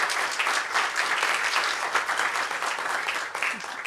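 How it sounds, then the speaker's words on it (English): An audience at a Unity of Tustin gathering breaks into steady, full applause, many hands clapping densely and evenly throughout with no pauses. "Can we give them a little round of applause for that?"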